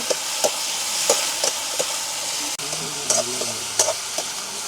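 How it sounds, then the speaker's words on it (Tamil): Onion with dried and green chillies frying in a pan in a village kitchen, a steady close sizzle with scattered stirring scrapes and clinks, no talk. "நல்லா கொதிச்சிட்டேன் வெங்காயம் பச்சை மிளகாய் வதங்கட்டுக்கு"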